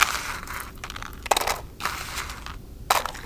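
Dried beans dropped and rattling into a toilet paper roll maraca, heard as several rough bursts of crunchy, scraping rustle with a faint background hiss and no talking.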